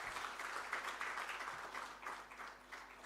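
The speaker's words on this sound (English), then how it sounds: "Another round of applause to Professor Bazeyo." An audience claps after a memorial lecture, steady dense applause holding at an even level for about three seconds, with faint crowd murmur underneath.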